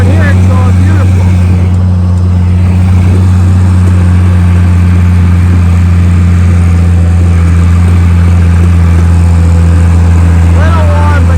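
An International Harvester tractor engine drones loudly and steadily at close range, a constant low mechanical hum while disking a field for corn planting.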